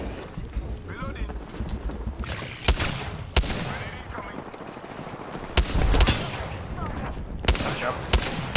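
Gunfire in an online shooter video game, sharp bursts of shots and crackling volleys scattered through the clip, with a teammate talking over the action.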